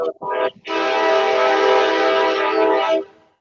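A passing train blasts its horn in one long, loud, sustained chord lasting about two and a half seconds, preceded by a couple of short bursts, then fading quickly.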